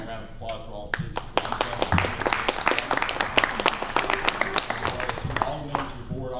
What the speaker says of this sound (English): Give a round of applause for all of his